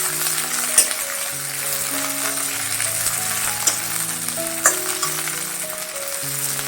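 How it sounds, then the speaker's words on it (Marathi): Green chillies for thecha fry in a pan over medium-low heat, giving a steady close sizzle with occasional sharp pops and light stirring, and a faint tune plays underneath. "चांगले दोन तीन मिनटं परतायचं"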